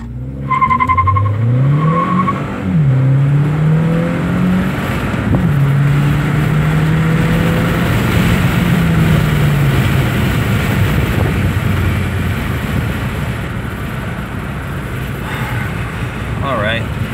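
A 2015 Hyundai Sonata Eco with an air filter, in sport mode, accelerates hard: a loud, steady engine roar climbs in pitch through the gears and holds strong for about seventeen seconds, with some tire and wind noise.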